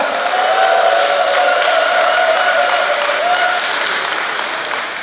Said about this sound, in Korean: 뜨거운 성원의 박수를 보내주시기 바랍니다